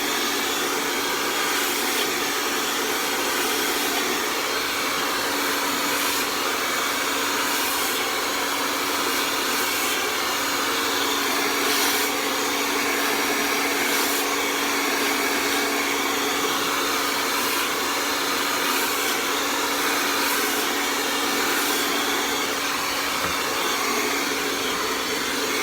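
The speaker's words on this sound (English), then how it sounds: "And always keep the hairdryer moving." A handheld hair dryer blow-drying hair runs as a continuous, loud, even whoosh with slight fluctuations as it is moved, with no talking.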